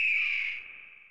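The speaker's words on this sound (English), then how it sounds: "There's a bald eagle." A bald eagle in the video game Tex Murphy: Under a Killing Moon gives a single shrill, piercing cry that starts loud and slowly fades over about a second, alone with no other sound.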